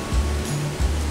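Malanjkudum waterfall on a river in the rainy season roars as a loud, steady broadband rush of falling water, near and continuous, with no talk.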